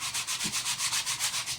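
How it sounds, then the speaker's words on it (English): Sanding a wooden joint on a model airplane stabilizer, with about a dozen rhythmic back-and-forth scrubbing strokes, close and steady, no talking. "We'll sand our joint, kind of smooth it out."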